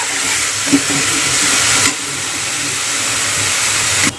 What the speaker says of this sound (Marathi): कांद्याला पण चांगला गोल्डन कलर येईपर्यंत फ्राय करायचे